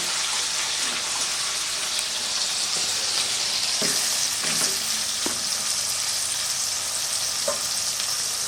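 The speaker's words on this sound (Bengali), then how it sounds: "এই পেঁয়াজ কুচোটা এবার আমি তেলের মধ্যে দিয়ে লাল করে নেব।" Chopped onion fries in oil for a thin duck curry, giving a loud, steady sizzle with a few scraping strokes from a spatula partway through and no voices.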